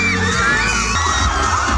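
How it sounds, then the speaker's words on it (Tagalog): A large outdoor crowd at the Miss Bangued 2024 pageant in Bangued Town Plaza, Abra, shrieking and cheering loudly, high excited screams and whoops swelling over a constant roar of voices. "Kanya-kanyang cheer ang crowd"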